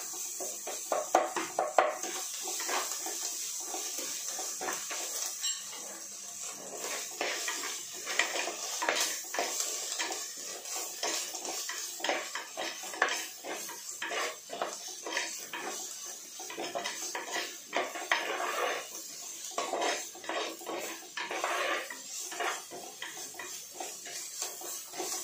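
Ginger garlic paste stirred in a metal pan with a utensil, steady scraping and clinking of metal on metal running continuously, close and fairly loud, with a faint sizzle underneath.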